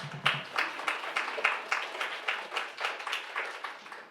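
Audience applause for library staff at a spring book preview event, a modest, steady patter of clapping from a small crowd, fairly even throughout with no voices over it.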